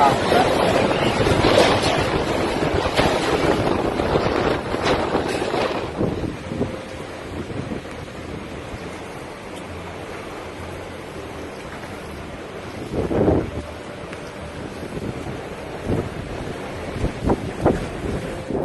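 Strong typhoon winds roar and buffet the microphone in loud gusts, rising and easing over a steady rushing background, with occasional knocks and bursts amid the storm.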